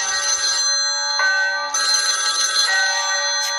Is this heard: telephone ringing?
yes